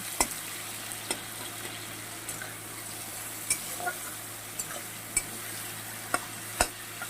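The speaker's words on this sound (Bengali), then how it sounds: "পেঁয়াজের সঙ্গে চিংড়ি মাছটাও ভেজে নেব" Prawns fry with onions in a pan, making a soft, even sizzle with scattered sharp clicks and scrapes as a spatula stirs them, the sounds close by and moderately quiet.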